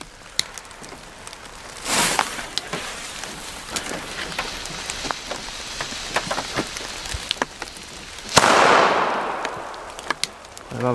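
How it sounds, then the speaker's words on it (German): Sharp firecracker bangs crackle irregularly, with a couple of louder bursts and a dense crackling cluster near the end, against a hissy rain-like background. "Machen wir weiter mit den Böllern hier."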